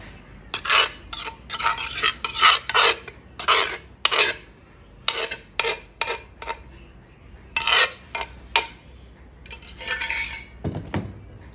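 Noodles are scooped onto a plate for a spicy Thai cucumber salad: quick bursts of metal utensils clinking and scraping against dishware come in irregular clusters, close and busy, with short pauses between.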